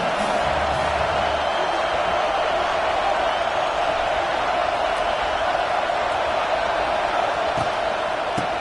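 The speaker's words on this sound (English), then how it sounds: "This crowd bringing the energy and noise early." Stadium crowd noise in a college football video game, a steady broad wash of distant cheering and murmuring that holds evenly throughout with no distinct voices standing out.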